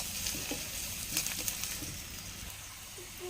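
Chopped onions sizzle and crackle steadily in hot oil in a pan while egg masala is made, with a continuous frying hiss and occasional soft stirring taps, close and even.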